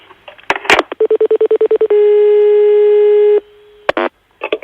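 Phone dialing beeps come first: about nine quick, evenly spaced tones. A long, loud, steady telephone tone follows, with a few clicks from the handset before and after.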